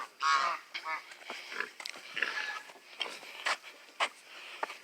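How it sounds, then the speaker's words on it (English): Farm watch geese honk in a series of irregular, moderately loud calls, some overlapping, with short pauses between the bursts of honking. "these are my watch geese"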